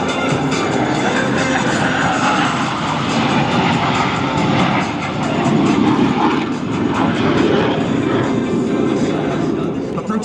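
Blue Angels jets at the Cleveland National Airshow flying a double tuckover roll, a loud continuous roar of jet engines over an announcer's amplified voice on the public address system.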